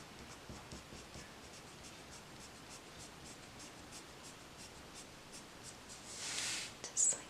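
Pencil flicking short drawing strokes across paper to shade hair shadows, soft rapid scratchy strokes repeating close up, ending in a couple of louder brushing swipes.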